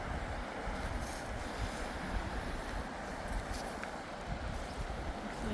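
Waves breaking along a rough shoreline produce a steady, low rushing wash mixed with wind buffeting the microphone. The sound is continuous, fairly distant and moderately quiet, and no voices are heard.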